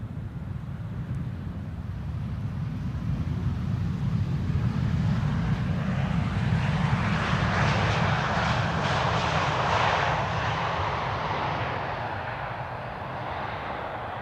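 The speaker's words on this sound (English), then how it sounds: "just like the KLM landing right now." A KLM airliner landing at Amsterdam Schiphol, a steady broad jet roar that swells and holds for several seconds, then slowly fades as the aircraft passes, with light wind buffeting on the microphone.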